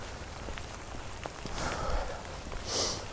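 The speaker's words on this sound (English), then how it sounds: "the rain is still steadily falling and it's still very cold" Steady rain falls outdoors in cold weather in a park beside sheltering trees, a continuous soft patter with brief louder gusts of spatter, no voices.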